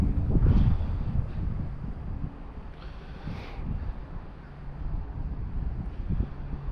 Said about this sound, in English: The wind's blowing everything over here.